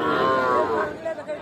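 A heifer calf at a traditional cattle market moos once, loud and close, with a long drawn-out call that tapers off at the end against faint background chatter.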